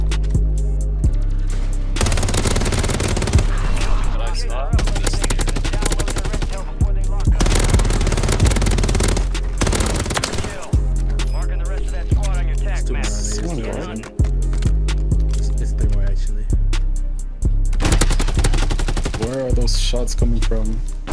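Sustained automatic rifle fire in the Warzone battle royale game, with repeated loud bursts and volleys from an assault rifle continuing through most of the stretch under constant talk among players.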